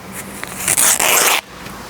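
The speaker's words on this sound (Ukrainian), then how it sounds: "Ми розкриваємо пакет." A sealed bandage package is torn open by hand, a loud rasping rip in several quick bursts lasting about a second, then quiet.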